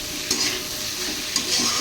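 Okra and mixed vegetables are stirred and sautéed in a hot pan, a constant sizzle broken by two brief scraping strokes of the spatula.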